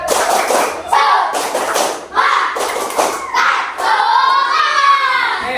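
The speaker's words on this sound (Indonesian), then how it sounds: "Tepuk semangat." Sixth-grade classroom children perform a rhythmic spirit clap in unison, bursts of group clapping in a patterned beat mixed with their chanting voices, close and loud.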